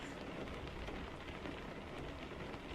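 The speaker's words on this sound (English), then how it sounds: "we'll just kind of wait out this rain here, I guess" Steady rain pours down in American Truck Simulator while a truck waits to be unloaded, a dense, even hiss of drops drumming on surfaces with no breaks or voices.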